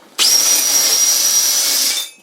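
A dull power drill bores into a boat hull for steering cable holes, one steady high whine lasting about two seconds with a sharp start and a fade at the end, loud and close.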